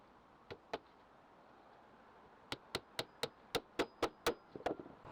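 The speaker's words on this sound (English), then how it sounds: "hammer the trim pieces into place" Two light taps, then a quick series of sharp knocks as a hammer drives wooden trim into place on a deck railing, fairly close and clear.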